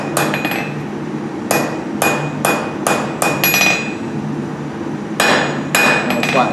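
Hammer blows on hot steel while forging the shoulder corners of a handle, loud ringing strikes close by, some in quick pairs and some more spaced out, with a pause before a final flurry.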